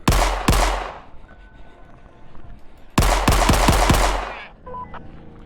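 Enemies in the game Forgive Me Father fire loud bursts of gunfire, a double blast near the start followed by a rapid volley of several quick shots, with a softer mechanical hum in the quieter gaps.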